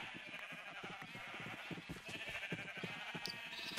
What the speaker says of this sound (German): Geht halt mal weg, ihr Schafe